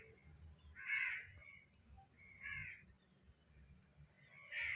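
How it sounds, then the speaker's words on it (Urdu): A crow caws three times in the background, faint and evenly spaced harsh calls with quiet stretches between them. "شاید آپ بیک گراؤنڈ میں بھی آواز سن رہے ہوں گے کوے کی۔"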